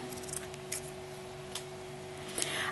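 Scissors trimming lace for a flower craft make a few small, crisp snips spaced irregularly over a steady background hum.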